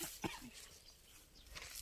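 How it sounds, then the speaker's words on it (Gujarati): A single short cough comes from a person indoors, quiet and close, against a low background hum. "મને ઉધરસ બહુ ખાય છે ને"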